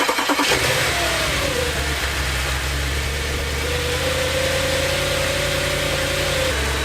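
A used Audi S5, freshly serviced with new spark plugs, cranks and fires up with a brief starter whir, flares into a loud rev, then settles into a steady, close idle.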